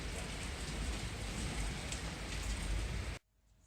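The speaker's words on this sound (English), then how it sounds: "the thunderstorm is still going on" Heavy rain from a thunderstorm pours steadily in a dense, hissing roar that cuts off abruptly near the end, leaving quiet.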